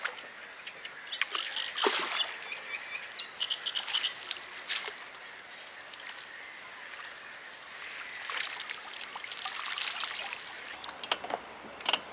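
Bream released from a wooden fishing platform into Goczałkowice lake water, giving brief splashes and trickling drips amid outdoor ambience with frogs and birds, fairly faint and without talk.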